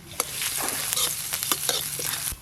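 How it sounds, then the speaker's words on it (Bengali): Chopped garlic and ginger fry in hot white oil in a kadai for momo tomato chutney, a steady close sizzle with scraping stirs of a spatula breaking through at intervals. "আদা আর রসুন কুচি একটু ভালো করে ভাজা ভাজা করে নেব।"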